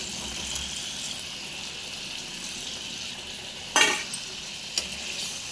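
Paneer curry bubbles in a pan with a soft continuous sizzle, broken by a sudden loud splash-like burst and a couple of brief clanks, no talk.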